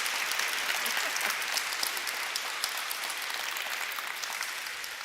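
Sustained applause from a lecture audience at an Outlander conference plenary, a steady dense wash of clapping that holds at even loudness throughout without pause.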